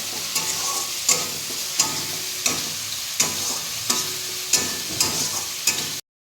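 Spices fry and sizzle in hot oil for a kakle fish curry, stirred with a steady scraping rhythm of strokes under a continuous close, loud crackle, with no talking.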